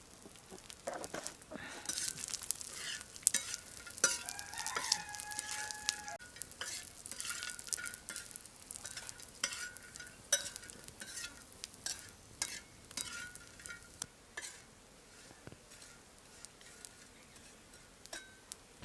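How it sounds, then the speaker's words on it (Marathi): Cleaned Bombay duck fish frying in oil in a pan for a traditional Maharashtrian curry, a loud close sizzle with sharp crackles, spatter and clinks of a utensil stirring, busy and irregular throughout. "हे बोंबील साफ करून घेतले आता भुजून घेतो उलस तेल टाकतो भुजायला"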